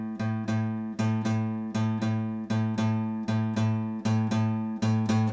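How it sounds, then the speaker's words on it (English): A single guitar note repeats in a blues shuffle rhythm, long-short pairs of plucks ringing steadily and close with no talking over them. "So if I played it on the guitar, just this one note, it would sound like this."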